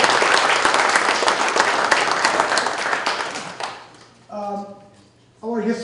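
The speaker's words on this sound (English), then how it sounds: "Can we give a round of applause" Audience applause at a Democratic campaign town hall in Hollis, New Hampshire, a loud, dense wash of clapping for about four seconds that thins out and gives way to a voice.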